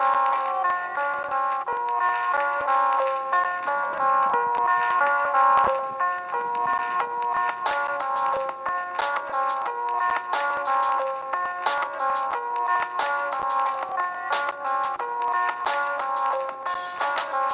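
A self-made electronic beat with bright chiming bell-like melody notes looping steadily, joined midway by crisp, rapid percussive hits for a busy, continuous rhythm with no voices.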